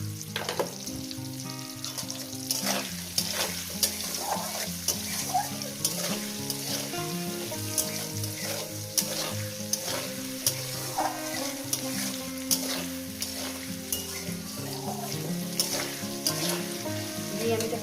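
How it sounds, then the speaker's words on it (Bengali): Potatoes frying in hot oil in a pan, a dense continuous close sizzle with light stirring scrapes throughout and no talk. "আলুটাকে মিনিমাম আমি দু মিনিট একটু ভেজে নেব"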